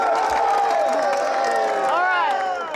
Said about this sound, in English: I would love to hear each team cheering and supporting as loud as you can